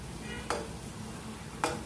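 Sattu dough balls frying in a pan of hot oil, a steady soft sizzle with two sharp crackling pops about a second apart, close and moderate in volume, no talk.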